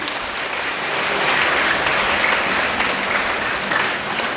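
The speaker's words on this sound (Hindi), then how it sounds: "तालियां बजाइए" Steady applause from an assembled congregation at a Sunday church gathering, a dense, even wash of many hands clapping together at full strength for several seconds, with no voices over it.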